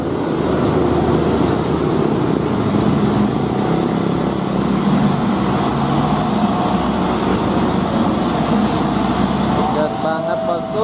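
A loaded Hino trailer truck hauling cement grinds up the steep Cibe hill at full throttle, a dense, continuous low engine roar that stays loud and steady throughout.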